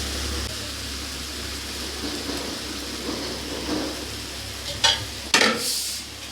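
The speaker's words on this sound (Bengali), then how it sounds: "দই আর বেসন দিয়ে ভালো করে নাড়াচাড়া করে নেব" Yogurt and gram flour chutney being stirred in a pan, with a soft steady scraping and faint sizzle, followed near the end by two sharp spoon-against-pan knocks, close and alone.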